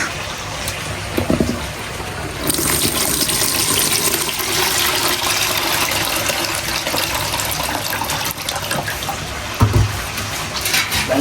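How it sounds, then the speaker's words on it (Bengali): Rice being washed in water, with a steady, fairly loud rush of splashing and pouring water that starts after a brief quieter moment and continues nearly without a break. "এখানে হচ্ছে চাল ধোয়া হইতেছে"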